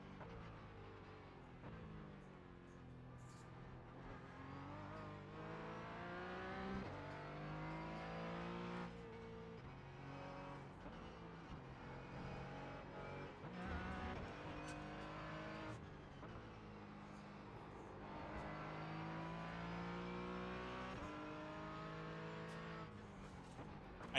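Race cars from an iRacing sim race roar and rev steadily throughout, engine notes rising and falling through gear changes as cars run close together, with occasional brief tyre squeal and no talking.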